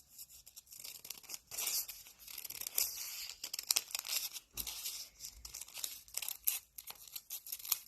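Scissors cut along a zigzag line drawn in red marker on folded paper for a snowflake, giving close crisp snips and crinkling rustles in uneven bursts with short pauses between.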